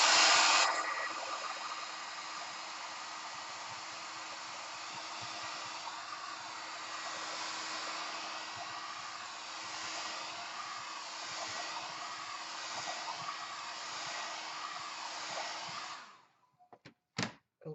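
A hair dryer blows steadily and loudly over a freshly finished wooden plaque for about sixteen seconds, holding a constant rushing whoosh before switching off, followed by a couple of faint knocks.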